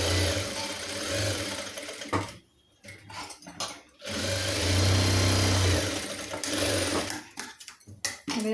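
A sewing machine stitches a homemade cloth face mask in loud, close bursts of rapid whirring, stopping and restarting several times with short pauses between runs.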